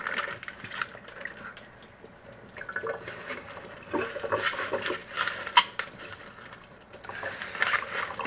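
Tap water runs and splashes while items are rinsed while making a tank, the flow surging and fading in bursts with occasional drips and clinks, close by and without talk.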